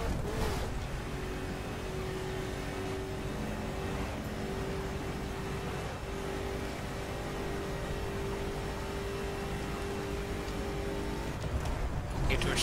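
Engine of a Koenigsegg Agera R supercar in The Crew racing video game, a steady high drone held at cruising revs with a sustained whine, loud and constant throughout.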